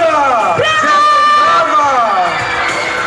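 A live audience at an outdoor stage show in Międzyzdroje, 2001, bursts into loud, sustained cheering and whooping, with raised voices rising over the crowd throughout.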